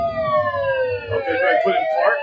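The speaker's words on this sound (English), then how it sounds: "Turn off your lights and sirens." A police car siren in a driving simulator wails steadily with rising and falling tones, fairly close and loud, over low rumbling engine noise.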